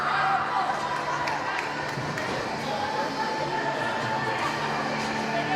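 Hockey crowd at a girls' varsity game against Falmouth murmuring and grumbling at the officials after a penalty, a steady broad crowd roar with no distinct cheers.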